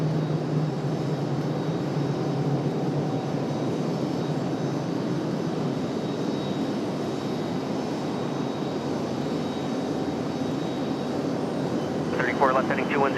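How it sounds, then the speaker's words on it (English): A CRJ regional jet starting its engines at Raleigh-Durham airport, a steady broad roar that rumbles and hisses without a break, heard at a distance with a faint rising whine near the end. "as well as the CRJ you're getting ready to hear start up"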